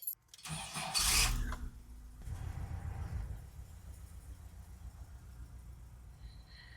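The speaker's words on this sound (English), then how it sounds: "I'm gonna pull out the van." A van engine cranks over with a sharp starter whine, catches, and settles into a low, steady idle close by, with no talk.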